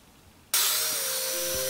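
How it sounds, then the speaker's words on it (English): A belt sander with a 40-grit belt starts abruptly and runs with a loud, steady whir and gritty hiss rounding wooden step corners, close by. "So using a 40 grit sanding belt, I went ahead and sanded the corners"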